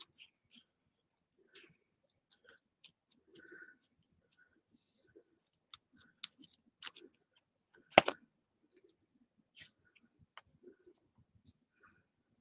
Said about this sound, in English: But this scissors cut pretty crappy.